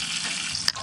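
Water runs steadily from a horse drinking fountain on a mountain hiking trail, a close continuous splashing trickle with one brief brighter splash near the end.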